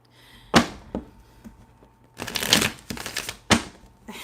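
A tarot deck is shuffled by hand in a quiet room, giving several sharp card slaps followed by a longer burst of riffling flutter and another snap.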